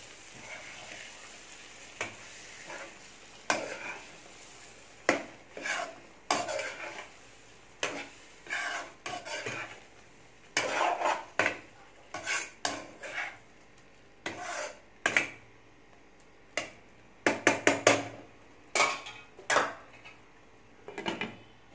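Spoon scraping and clinking in a pot while ground coconut is lightly stirred into a masala brinjal gravy, a series of separate metallic taps and scrapes spread through the clip with quiet gaps between them.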